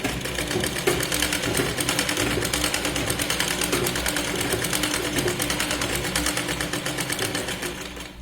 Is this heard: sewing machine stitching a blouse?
yes